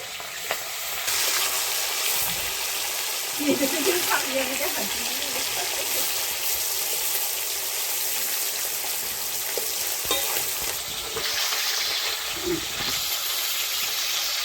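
Hilsa fish fries in oil with a loud, steady sizzle and spatter, while people talk quietly at moments over the cooking noise.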